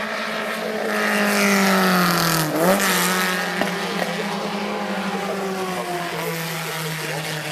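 Classic race cars pass on the track at the Le Mans Classic, one loud engine note sweeping by close with a rising then falling pitch, followed by sustained engine drone in the distance.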